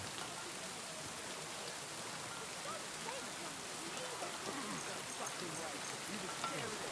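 Steady rain pours down in the medieval open-world game Kingdom Come: Deliverance II, a dense, even hiss of drops on the ground that continues unbroken and fairly loud throughout.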